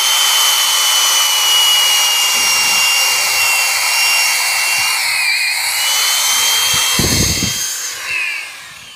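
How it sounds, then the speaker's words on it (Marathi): An electric drill bores nail holes into wooden framing for a Ganpati makhar decoration, making a loud, steady high whine that runs almost continuously and unbroken, with no talk over it. "पण आपण ड्रिल मारून मारतो ना"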